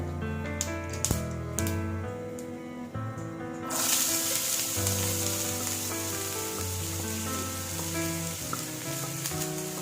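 Hot oil sizzles steadily as chopped green beans for Kerala-style thoran hit the pan, with a few sharp clinks and taps at first, then a constant frying hiss.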